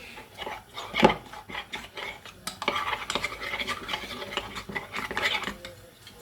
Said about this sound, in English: I'm going to take a little milk and I'm going to make a paste, quite a thin paste, not too thick